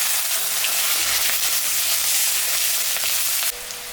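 Onion sizzling in hot mustard oil tempered with cumin, black cumin and dried chilli after fish was fried in it, a steady bright hiss that shifts slightly near the end, with no talking.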